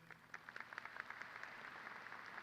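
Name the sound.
graduation audience applause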